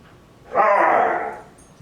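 A single short dog vocalization, a yelping bark drawn out into a whine, close by and alone in a quiet room.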